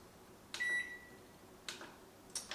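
Microwave oven beeping as its buttons are pressed: three short electronic beeps spaced apart, the first a clear sustained tone, close and fairly faint in a quiet room.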